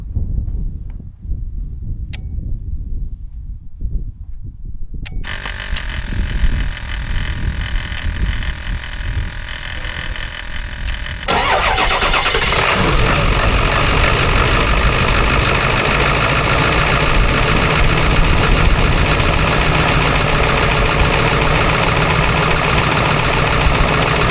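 A large 7.3 diesel engine, started with a jump starter, cranks briefly, then catches and settles into a loud, steady rumbling idle that grows louder and continues without pause.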